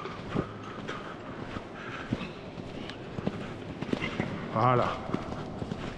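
A horse's hooves strike the ground in an irregular rhythm while it is ridden through a schooling exercise, soft thuds close by under someone speaking French.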